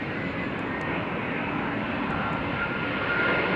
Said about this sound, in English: This is Qatar's A350